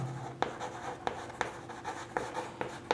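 Math being written on a board in a class, a series of quick scratchy strokes and light taps in an uneven rhythm, close and fairly quiet, with no one speaking.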